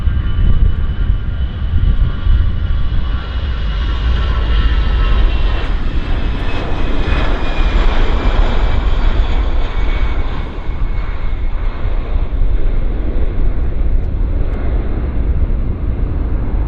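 An Air Canada airplane at Vancouver Airport roars loudly and steadily for the whole stretch, a broad, sustained engine rumble with a slight whine, and no talk.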